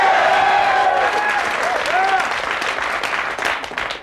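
Studio audience applause from a 1991 sketch comedy TV show fills the clip with dense, steady clapping, with some cheering tones and a voice mixed in, tapering off slightly near the end.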